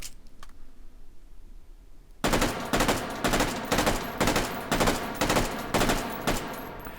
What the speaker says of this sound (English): let's go ahead and burn through another 25 rounds here and put it on 3-round burst